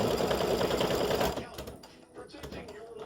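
An embroidery machine works a satin stitch on a stem in a rapid buzzing run that fades out halfway, leaving quieter tapping and room sound.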